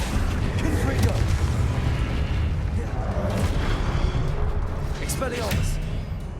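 Booming blasts of the Confringo explosive spell in Hogwarts Legacy sound over dense low rumble, loud and close. Someone shouts spell names throughout.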